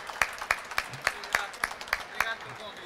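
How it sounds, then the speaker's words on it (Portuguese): A small group clapping for workshop presenters at a maker space during a furniture trade fair, a light run of separate, fairly close claps with voices mixed in. "dá uma salva de palmas pra esse povo aí"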